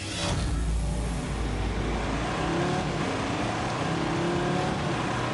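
A car in The Grand Tour video game, fitted with a 3.2-litre five-cylinder engine, drones loudly and steadily as the engine holds high revs, filling the whole stretch with continuous motor noise.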